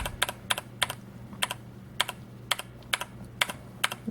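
Typing on a Velocifire VM01 mechanical keyboard produces about fourteen crisp, evenly spaced clicks at a moderate pace over a low steady hum. The clicks are fairly quiet and there is no talking.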